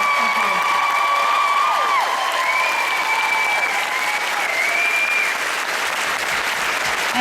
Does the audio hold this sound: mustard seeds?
no